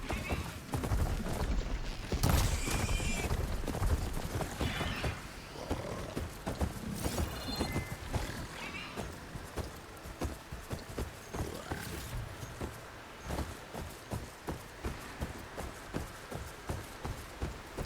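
Mount ridden in the game Horizon Forbidden West, rapid hoof clip-clop thudding steadily throughout, loud at first then settling into a regular trotting rhythm alongside scattered game effects.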